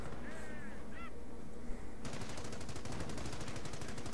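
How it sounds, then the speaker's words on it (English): Machine gun fire in a war strategy video game, a rapid steady rattle of shots that starts abruptly midway and continues evenly to the end, moderately distant, preceded by a brief squealing and honking sound. "MG firing, nothing serious"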